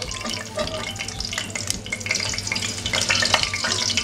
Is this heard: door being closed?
no